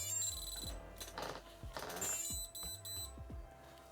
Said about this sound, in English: We want those beeps, we want those lights